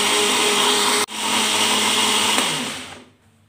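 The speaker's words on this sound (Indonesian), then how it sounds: "kita blender sampai halus kalau untuk bawang-bawangan sama jahenya" A blender grinds shallots, garlic and ginger into a fine paste, a loud steady whirring motor that cuts out briefly, restarts, then winds down and stops near the end.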